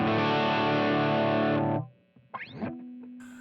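Gibson Les Paul electric guitar played through an AI-designed clean tone on a Line 6 Helix, with a gritty, slightly distorted sustained chord that rings and cuts off. A few quieter string noises and a brief note follow.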